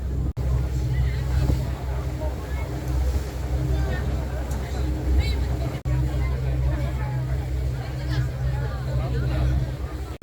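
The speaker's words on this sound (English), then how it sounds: "we're on the slow boat." A low, steady slow-boat engine drone on the water between Pattaya and Koh Larn, with wind noise and a murmur of people talking nearby throughout.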